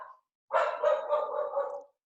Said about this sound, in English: I think that's probably your dog Zippy